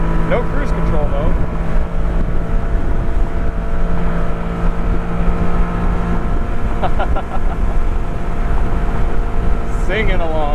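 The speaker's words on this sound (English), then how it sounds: "Here you go, Honda Beat on the highway." A 1991 Honda Beat cruising on the highway at high revs, its steady engine drone and road roar continuous throughout, windows up, with faint rising whine at moments.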